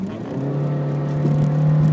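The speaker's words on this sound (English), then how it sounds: "You give the car full acceleration" A 2013 Honda CR-Z accelerates at full throttle with boost engaged, its engine note holding a steady tone and gradually rising in loudness, heard from inside the car.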